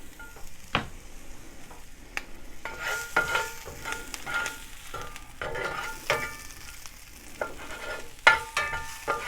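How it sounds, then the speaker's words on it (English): Garlic and ginger fry in oil with a soft sizzle, broken by repeated sharp scrapes and clacks of a utensil stirring them in the pan. "Go ahead and add the garlic and the ginger."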